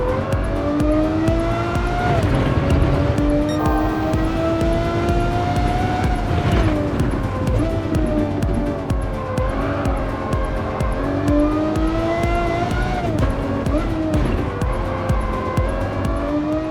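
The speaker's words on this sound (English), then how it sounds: "tires screech, then silence" Lamborghini Murcielago LP640 cornering hard, its tires squealing in long wavering tones above a loud, continuous engine roar, up close and sustained throughout.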